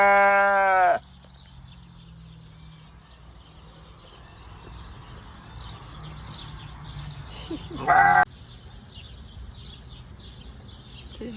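Sheep bleat loudly and close by, two separate quavering calls at the start and near the end, with quiet outdoor ambience between them.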